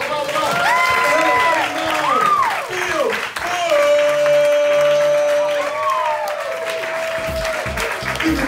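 A comedy festival crowd claps steadily with scattered cheers, loud and sustained throughout, while a host's voice and music-like tones ride over the applause.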